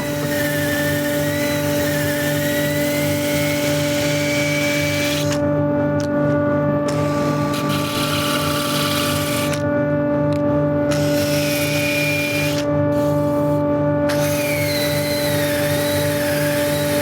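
A power sander works the surface of an apple wood bowl spinning on a lathe, giving a steady loud whir with constant motor hum and tonal whine, briefly shifting in pitch as pressure on the wood changes.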